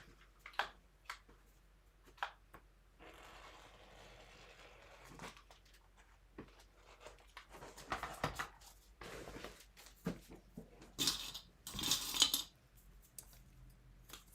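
Scissors cut out a fabric pattern piece, a back pocket facing for a Yoshi Sling bag, giving quiet, scattered snips and clicks with a couple of louder rustling bursts toward the end.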